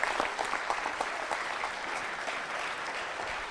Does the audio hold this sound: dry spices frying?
no